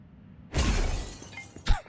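Glass shatters in the video game Control AWE, a loud sudden crash of breaking panes followed by a brief tinkling tail and a second sharp impact near the end.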